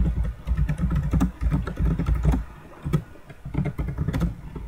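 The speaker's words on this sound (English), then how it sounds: "hearing you type on your keyboard, it's like sounding like you're rage quitting." Fast, heavy typing on a computer keyboard comes as dense bursts of clattering keystrokes with short pauses, close and fairly loud, with no talk over it.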